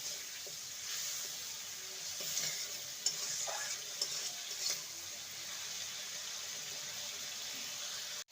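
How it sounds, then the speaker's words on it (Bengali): Poppy seed paste is stirred in a hot pan for a vegetarian kakrol dish, giving a steady soft sizzle with occasional spoon scrapes and taps against the pan, close and continuous. "এই সময় আমি দিয়ে দেবো পোস্ত বাটা পোস্ত দিয়ে ভালো করে নেড়ে নেব"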